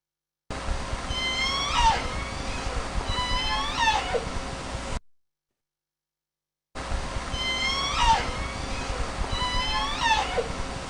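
Resident killer whales of J-pod giving the S1 call, a three-part descending whistle-like cry, repeated twice in two bursts separated by a silent gap, with no talk.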